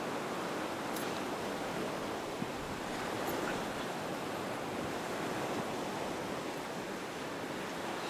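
Small ocean waves wash steadily at Cherry Grove Point beach in North Myrtle Beach, a soft, continuous surf hiss heard alone at low level with some wind.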